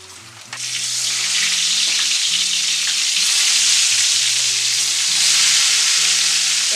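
Cloves, cinnamon and cardamom fry in ghee as a steady, close sizzle that swells in as the spices hit the pan and holds loud and even throughout, with faint stirring; a quiet devotional chant hums underneath.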